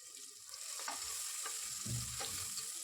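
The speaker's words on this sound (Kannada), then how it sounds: "ಅದಕ್ಕೆ ಹೆಚ್ಚಿಟ್ಕೊಂಡಿರೋ ಅಂತಹ 1 ಈರುಳ್ಳಿಯನ್ನು ಹಾಕ್ಕೊಂಡು ಚೆನ್ನಾಗಿ ಫ್ರೈ ಮಾಡ್ಕೊಳ್ಳೋಣ" Chopped onion fries with turmeric powder in hot oil for a village-style mutton sambar, sizzling softly and steadily while a spoon stirs and scrapes the pan in a few gentle strokes. No one speaks.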